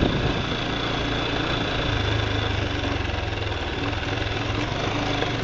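A weak, underpowered motorcycle engine runs steadily nearby, a loud, even drone with a low idle-like rumble that holds without change throughout.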